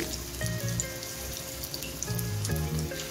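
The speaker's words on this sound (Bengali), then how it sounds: "এখন আমি কাবাবগুলো ভেজে নেব মিডিয়াম ফ্লেমে।" Chicken reshmi kababs sizzle in white oil in a non-stick pan over medium flame, a steady soft crackle and spatter with scattered pops, fairly quiet and close.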